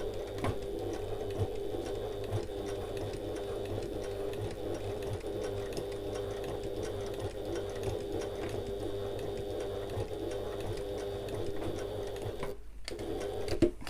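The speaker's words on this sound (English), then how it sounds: "I'm just going to sew across for now" Domestic sewing machine stitching across an evening bag, a steady close mechanical whir with rapid needle ticking running almost nonstop, with a brief pause near the end.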